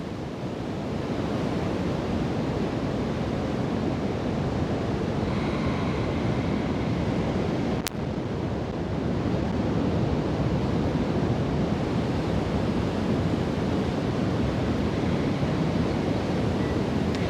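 Steady surf of ocean waves washing in continuously, a broad rushing roar with some wind, no voices.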